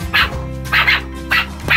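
A dog barks in a children's story: four short, sharp barks in an even rhythm, close and clear over a soft, sustained musical backdrop.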